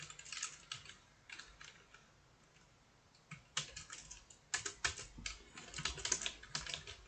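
Someone types quietly on a computer keyboard. Short clusters of crisp key clicks are separated by brief pauses, with the most rapid burst of keystrokes in the second half.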